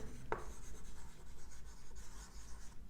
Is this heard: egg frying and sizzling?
no